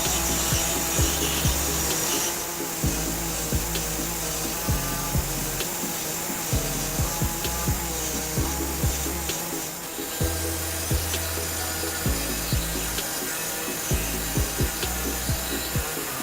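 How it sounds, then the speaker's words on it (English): An air saw cuts a notch into the steel frame of a 2018 Jeep Renegade for a trailer hitch, a loud, harsh reciprocating rasp with a rhythmic chugging pulse, continuing for about sixteen seconds with brief pauses. "I'll be using an air saw to enlarge my hole, and basically I'm just going to cut a little notch right in this area here"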